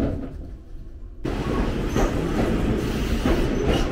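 A Toyama Regional Railway train in Japan rolls along with a steady rumble, and rhythmic wheel clatter picks up after a quiet start, close and continuous with no voices.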